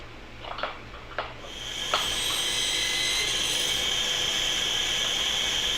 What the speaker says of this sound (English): I realise that I'm feeding into the grinder in the wrong direction, but I'm taking very light passes